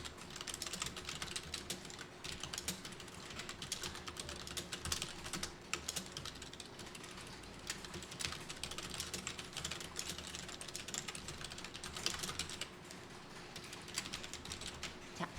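Fast typing on a computer keyboard, a dense run of light clicks and key taps going on throughout, close and fairly faint with a steady low hum underneath and no talk.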